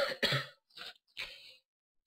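A person coughs three times in quick succession, close and fairly loud, with short pauses between each cough and no talking.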